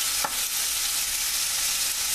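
Onions and garlic frying for beef stew, a close, bright sizzle that holds steady with a quick scrape of stirring near the start.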